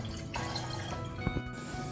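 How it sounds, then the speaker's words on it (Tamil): Water and a tumbler of milk poured into a cooking pot for payasam, a steady close splashing trickle with a few drip-like plops, moderately loud, no talk. "ஃபர்ஸ்ட் ஒரு பாத்திரத்தில் தண்ணி, அப்புறம் ஒரு டம்ளர் பால் ஊற்றிக்கலாம்."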